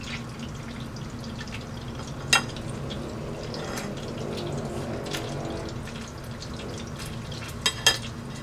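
Eggs fry in a pan with a steady, close sizzle and crackle, broken by a few sharp pops and taps of a utensil against the pan.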